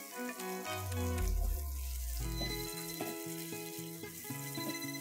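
Whole spices (asafoetida, bay leaf, cloves, black cardamom, crushed ginger and garlic) frying in hot oil for a Kashmiri egg curry masala: a soft, steady sizzle running beneath prominent tonal music throughout.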